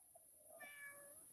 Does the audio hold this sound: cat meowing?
yes